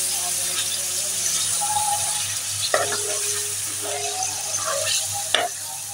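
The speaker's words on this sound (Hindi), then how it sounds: "तो देखिए चिकन फ्राई हो रहा है।" Chicken fries in a pan with a steady close sizzle while a utensil stirs it, giving occasional scraping clinks against the pan.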